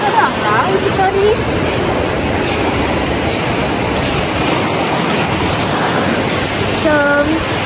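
Sea waves break on a beach in a loud, continuous rushing roar close by. Voices briefly cut in at the start and near the end.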